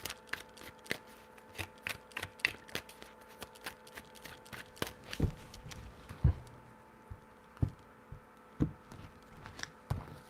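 Tarot cards being shuffled by hand in a quiet room: a series of soft, crisp riffling and tapping bursts at an irregular rhythm, faint and close, with no talking.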